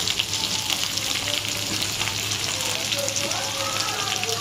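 Chopped onion frying in a pan of oil alongside cauliflower, potato and taro for a fish curry, giving a steady close sizzle throughout with faint stirring.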